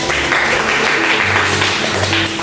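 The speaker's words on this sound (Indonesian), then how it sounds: "tepuk tangan untuk kalian" Classroom applause for students after an art lesson presentation, a brief, even wash of clapping hands, close and fairly loud, with a faint hum beneath.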